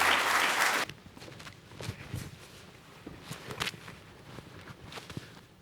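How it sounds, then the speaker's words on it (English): Conference audience at a panel event claps loudly for under a second, then the applause cuts off, leaving footsteps, shuffling and scattered knocks as panelists move to the table. "So give this panel a round of applause to come to the table."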